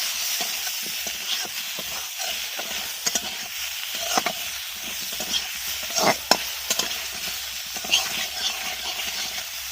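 Boiled taro stirred in a pan with chili powder and turmeric, a soft hiss of cooking under repeated close scraping strokes and clicks of the spoon against the pan at an uneven pace.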